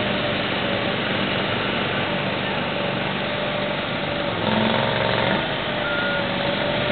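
A heavy truck with a rear steering trailer manoeuvres a roughly 225-foot concrete girder beam out onto a road, its steady engine drone running throughout while a repeating reversing beep sounds alongside it.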